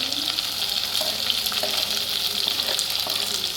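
Onions sizzle in a pan of hot oil with green chilli and ginger, a steady bright frying hiss with faint scrapes and soft clicks throughout.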